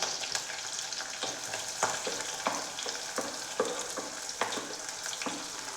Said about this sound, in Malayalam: ചെറുതായി അരിഞ്ഞു വെച്ച വെളുത്തുള്ളിയും അതുപോലെ തന്നെ നടുകെ പിളർന്ന് വെച്ച പച്ചമുളകും ഇട്ട് കൊടുക്കാം